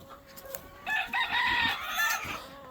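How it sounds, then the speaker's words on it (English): Barnyard rooster crowing once from close by, a loud, drawn-out call that rises and trails off over ambient yard noise, with no talk. "That's just a barnyard rooster."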